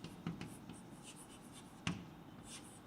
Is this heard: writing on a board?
yes